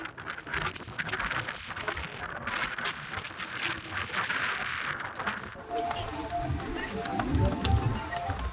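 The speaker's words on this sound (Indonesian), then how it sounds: "saat ini juga masih hujan lumayan cukup deras" Fairly heavy rain pours onto the top deck of the passenger ship KM Kirana 7, a continuous broadband patter heard close by, with voices and other deck sounds mixing in during the latter part.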